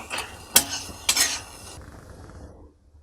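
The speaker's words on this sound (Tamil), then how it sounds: "இப்போ வந்து சாதம் கிளற போகிறோம். அதாவது குடமிளகாய் சாதம்." A metal spoon scrapes and clinks against a pan while capsicum rice is stirred, with two sharp knocks and a soft scraping under them, then quiet.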